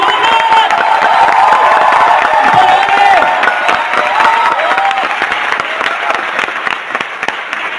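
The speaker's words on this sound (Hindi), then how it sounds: "तो मैं चाहूंगा सबसे पहले हमारे तमाम सीनियर्स के लिए और स्मार्ट वैल्यू के लिए एक बार जोरदार तालियां होनी चाहिए, जोरदार जोरदार" Loud, sustained applause from a seminar audience, dense clapping with some cheering and crowd voices mixed in, holding strong throughout before easing slightly near the end.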